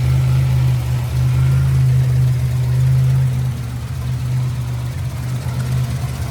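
A Buick Grand National engine idles while warming up, a loud steady low rumble held close, easing slightly in level partway through with no talk.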